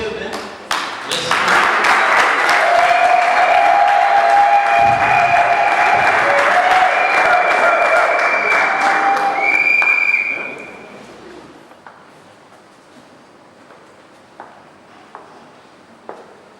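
Loud, dense applause from an audience at a ceremony in the DR Congo honouring a pastor named ambassador, sustained for about ten seconds before fading to scattered claps and quiet room noise.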